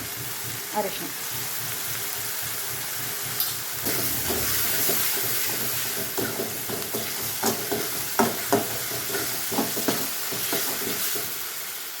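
Ground raw masala paste stirred into sizzling onions in a pot for vegetable sambar, a steady hiss of frying under repeated scraping stir strokes, with someone talking over it.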